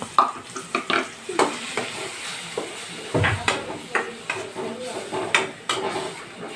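Tomatoes frying in oil for an egg curry, a steady sizzle broken by frequent spoon scrapes and clinks against the pan as they are stirred, close and fairly loud.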